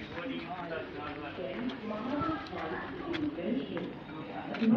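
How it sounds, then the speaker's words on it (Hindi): Pigeons coo in a street setting in Goa, soft repeated low calls close by, heard under ongoing talk with faint background bustle. "देखिए कबूतर उड़ रहा है"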